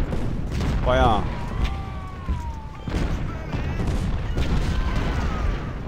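Crackling volleys of musket fire from an Ultimate General: Civil War battle at Fredericksburg, with a shouted order and distant battle cries mixed into the din.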